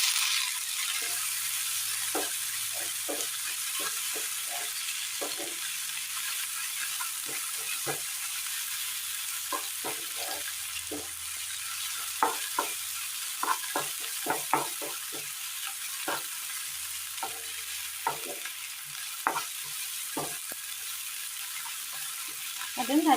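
Chopped tomatoes and onions sautéing in a pan give a long, steady hiss of frying, with scattered light clicks and scrapes of stirring throughout, heard alone without talk.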